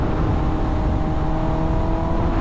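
A 2025 Kawasaki ZX10R sport bike with a BT Moto stage 2 tune runs, a steady loud engine drone with low rumble and a held tone, constant and close throughout.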